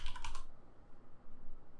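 A short burst of rapid keystrokes on a computer keyboard, close and crisp, stops after half a second, leaving quiet room noise.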